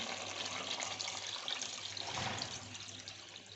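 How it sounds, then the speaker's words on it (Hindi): A jug of water is poured into a pot of goat trotters set to simmer, a steady splashing gush that runs continuously and close, with no talking. "1 जग मैंने इसमें पानी का शामिल किया है"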